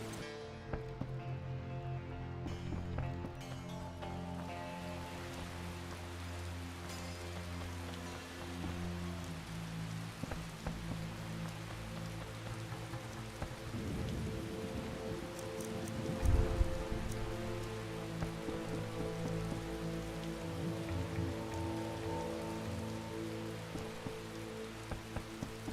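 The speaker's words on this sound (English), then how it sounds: "and it rains and it pours." Steady rain pours down in The Witcher video game, a continuous hiss of rainfall over a bed of ambient game music, with a brief louder splash partway through.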